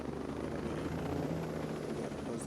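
Helicopter flying in the video game Ghost Recon Breakpoint, a steady rotor thrum and engine whine holding at an even level throughout.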